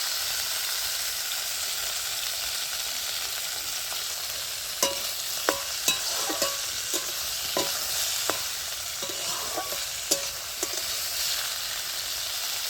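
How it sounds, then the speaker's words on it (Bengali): Flat beans with green chilies fry in a pan, a steady bright sizzle with a run of sharp clicking taps from stirring in the second half. "শিম ভাজতে বেশিক্ষণ সময় লাগে না, তাড়াতাড়ি হয়ে যায়।"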